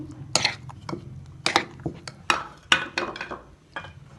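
Cooked macaroni is tipped into a fruit salad bowl, producing a string of clinks, scrapes and soft knocks of utensil against dish at irregular intervals, loud and close.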